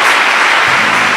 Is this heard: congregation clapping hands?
yes